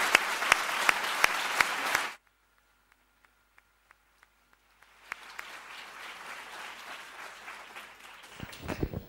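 An audience at a criminology and forensic science conference applauds, a dense burst of clapping that cuts off abruptly, leaves a few scattered claps, then swells again into a second round.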